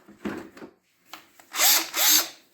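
A 14.4 volt Craftsman cordless drill gives a few soft handling clicks, then two short whirring bursts as the motor spins up and winds down, close and fairly loud.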